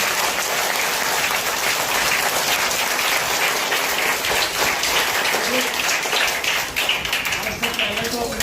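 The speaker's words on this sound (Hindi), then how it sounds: "सरस्वती माता जी के लिए तो और जोरदार तालियां" An audience at a school drawing competition held in a cultural hall claps loudly in a sustained, dense burst that barely wavers, with a voice faintly present beneath the clapping.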